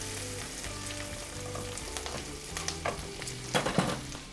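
Steady sizzling of unsalted butter melting in a hot pan with bacon, faint stirring scrapes, a few louder crackles and clatters near the end.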